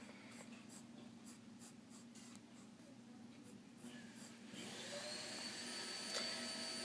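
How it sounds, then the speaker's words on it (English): A vacuum cleaner drones steadily in the background, its whooshing roar growing louder and fuller partway through. "there's like a vacuum going on in the background because they have to clean the floors"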